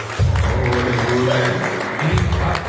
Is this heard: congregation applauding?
yes